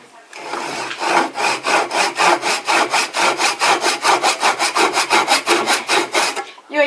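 A handsaw cuts through wood for a beehive frame, with steady back-and-forth strokes in a fast, even rhythm, close and loud, running alone throughout.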